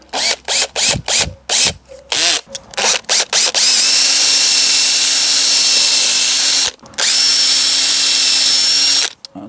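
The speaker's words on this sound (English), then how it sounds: "And we'll put the pilot hole in." Power drill boring a pilot hole for an outdoor weatherproof Bluetooth speaker bracket: several short loud bursts of the motor, then two long steady whining runs with a brief pause between, close and without talk.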